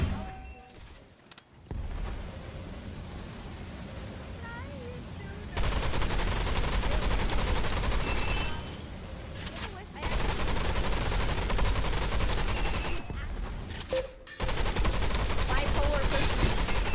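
Gunfire in the shooter video game Gun Raiders: dense, continuous rattling bursts fill most of the stretch, broken by a few brief gaps, with occasional voices talking over it.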